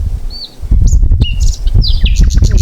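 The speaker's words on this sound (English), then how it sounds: "if you listen really carefully, you might be able to hear some birds" Birds chirp and tweet outdoors in short, bright calls scattered over a low rumble of background noise, with a few quick trills near the end.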